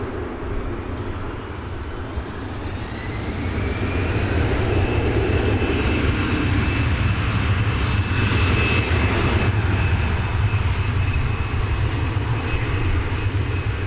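Airbus A319, Flight 2968, at DFW Airport at daybreak, a jet engine roar that swells over the first few seconds and then holds loud and steady with a thin whine above it, alone without speech.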